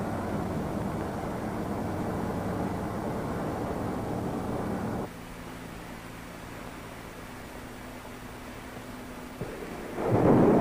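X-15 rocket engines firing on a test stand, a loud broad roar that drops into a lower steady hum with tonal whine, then surges back up in a sudden blast at the end.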